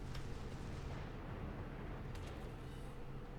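Ship cannons firing in the naval combat game World of Warships, a dense continuous barrage of low booming rumble with a few sharper bursts standing out near the end, loud and steady throughout.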